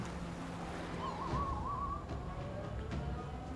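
A bird call in the video game Far Cry Primal: one faint, wavering whistled hoot lasting about a second over a soft, steady wash of ambient game noise.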